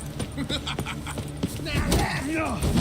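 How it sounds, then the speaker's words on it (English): Horse hooves clip-clop in The Witcher 3: Wild Hunt during a combat encounter, irregular thuds mixed under shouted game dialogue and battle noise. "Kill the horse then!"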